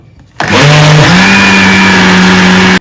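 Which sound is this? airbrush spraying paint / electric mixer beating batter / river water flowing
electric mixer beating batter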